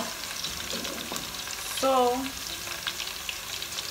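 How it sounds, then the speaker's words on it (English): Onions frying in a pan give off a steady, close sizzle with faint stirring scrapes, and one short spoken word briefly rises over the hiss. "my onions have been frying for some time now"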